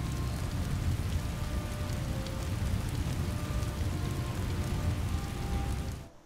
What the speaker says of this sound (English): You can also very clearly hear the rain outside, which is obviously great for immersion.